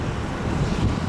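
Steady wind buffeting the microphone outdoors in Provo, Utah, in the dark early morning before a marathon start, a continuous low rumbling roar with gusts and no voices.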